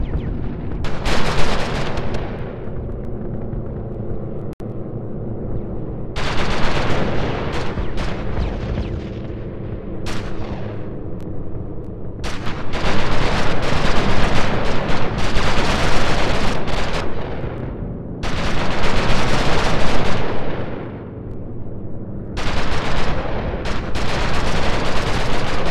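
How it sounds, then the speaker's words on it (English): German anti-aircraft guns in a flight combat game pound away in heavy, sustained barrages, loud and dense, with rolling bursts and booming reports that ease briefly between volleys before resuming. "The German AA guns turn the sky into a firestorm over the area"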